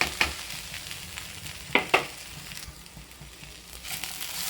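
Okra, potato and crushed garlic sizzle in a pan on a Tamil home stove, with a soft continuous fry and a few sharp spatula scrapes and stirs close by.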